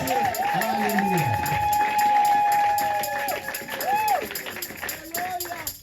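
Church congregation at a Sunday service acclaiming and clapping, a sustained crowd roar with applause and cheering running throughout under a prominent speaking voice and ringing tones.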